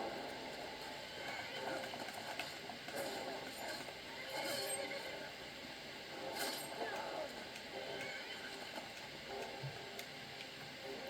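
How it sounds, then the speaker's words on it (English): A horse neighs during a battle in Skyrim amid busy background effects and clatter, loud and close over steady ambient noise. "The horse decided it's gonna fight too."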